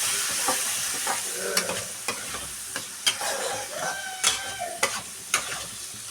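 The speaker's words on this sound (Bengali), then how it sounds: "দেখো চালটা দিয়ে একটু ভাজা ভাজা হয়ে গেছে" Gobindobhog rice, rinsed and added to potatoes, fries and rustles in a pan with a steady sizzle and intermittent scraping stir strokes at an even pace, close and fairly loud, with no talk.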